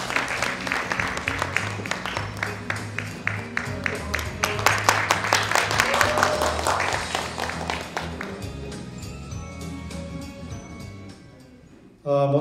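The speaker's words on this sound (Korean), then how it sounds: "여러분 뜨거운 박수 보내주시기 바랍니다." Audience applause at a graduation concert in a hotel hall, many hands clapping fast and dense for about ten seconds over a low background tone, then gradually thinning and fading, with a sudden louder sound at the very end.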